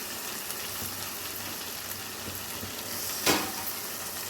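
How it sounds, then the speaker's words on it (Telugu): Raw prawns fry in a pan with cumin paste, giving a soft continuous sizzle and faint stirring, with one brief louder scrape near the end. "ఈ పచ్చి రొయ్యలో వాటర్ ఉంటుందండి, వాటర్ అంతా బయటకు వచ్చేదాకా వేపేసుకుందాం."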